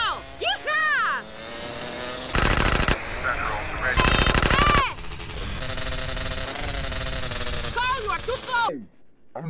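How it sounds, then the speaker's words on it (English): Machine-gun fire rattles from a moving car during a chase in GTA San Andreas, with loud sustained bursts over engine noise, shouting voices and whooshing effects. "Carl, you drive, I'll shoot!"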